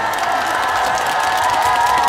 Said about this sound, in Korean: 박수 소리가 나올지 생각을 했는데 세게 안 나오네요